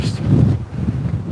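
Strong wind gusts across an open embankment in Rostov-on-Don, a loud, steady low roar buffeting the microphone for the whole moment, with treetops being shaken nearby.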